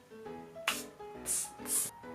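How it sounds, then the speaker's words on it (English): A spray bottle mists setting spray onto a makeup brush, giving two short, soft hisses close by after some light handling noise, with no talking. "So I'm going to spray my brush."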